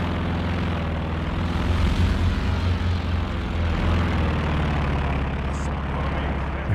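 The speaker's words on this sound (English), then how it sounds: "What is that, a scout plane?" A scout plane drones overhead in the wartime strategy game Company of Heroes 2, a steady, moderately loud propeller-engine hum that holds for several seconds above faint battlefield background.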